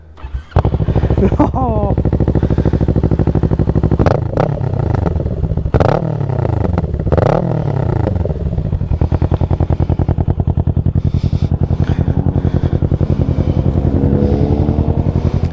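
A Kawasaki Ninja 650 motorcycle with an aftermarket exhaust revs loudly and close, its engine climbing and falling through several sharp throttle blips before settling into a steady, strong drone, with a brief exclamation from someone nearby.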